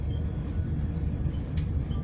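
Steady low rumble and rattle of a moving train carriage heard from inside, a continuous loud drone with no voices.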